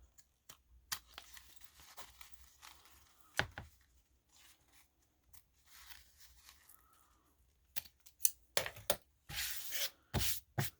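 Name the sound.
cutting off zipper ends with scissors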